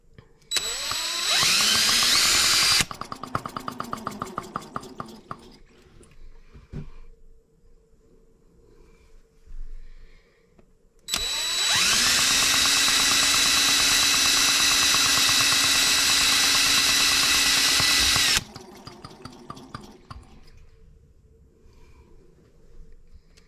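A drill with a starter attachment turns over a Benz R18 engine in two long bursts: a steady high whine with rattling for a few seconds, a pause with faint knocks, then a sustained seven-second spin that ends in fading mechanical clatter.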